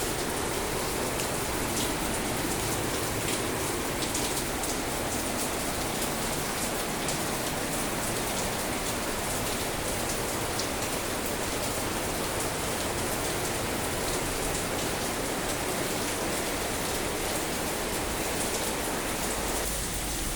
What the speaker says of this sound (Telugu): చాలా ఎక్కువ పడుతుంది వర్షం